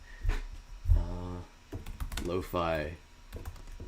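Keys on a computer keyboard are tapped in a few quick clicks while someone talks over them near the mic.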